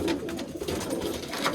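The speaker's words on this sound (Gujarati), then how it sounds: "હા, આ બીજું કબૂતર." Punjabi Malwai pigeons coo softly and nearby in a low, continuous throaty murmur that lasts the whole brief moment.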